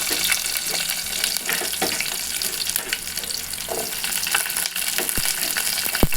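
Chopped onions fry in oil in a pan while a spinach dal is being made, giving a loud, steady crackling sizzle with bursts of sputtering and a few sharp clicks from the pan, close up and with no talking.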